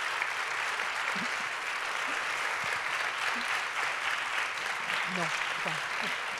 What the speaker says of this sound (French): Et là, ça va être le moment de très très forts applaudissements